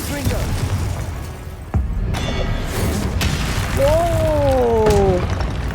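Confringo fire spell blast in the Hogwarts Legacy video game, a sharp burst near 1.8 seconds over continuous game noise and music, with a player's voice talking and shouting spell names throughout.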